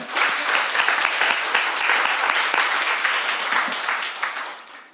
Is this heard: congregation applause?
yes